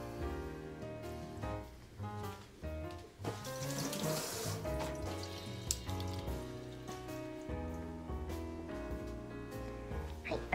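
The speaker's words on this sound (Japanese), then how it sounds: "新しい大きい鍋にお水をたっぷり入れて" Tap water pours steadily into a large new cooking pot, a continuous splashing rush that stays fairly quiet and close, with no talking over it.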